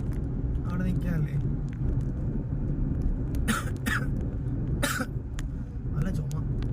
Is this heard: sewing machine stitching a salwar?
no